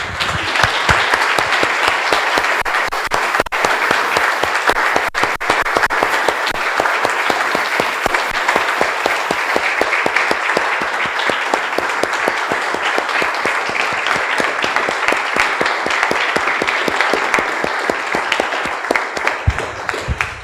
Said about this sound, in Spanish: Damos un aplauso, hermanos, así.